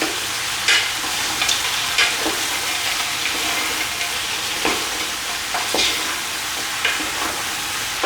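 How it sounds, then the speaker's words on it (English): Onion, brown sugar, tomato and garlic are stirred in a big pot for Cantonese oxtail and lamb stew, with a steady loud sizzle and intermittent scraping strokes of the spoon. No voices. "Give that a quick stir."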